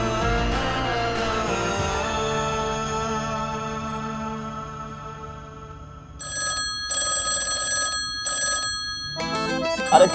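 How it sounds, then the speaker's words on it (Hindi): An old-style telephone bell rings in repeated bursts with short gaps between them, heard over a sustained musical background. "टेलीफोन बज रहा है, फोन उठाओ।"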